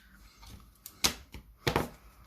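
Scissors snip scrap paper for a card panel in a few quiet, separate cuts, close and soft, with two slightly louder crisp snips.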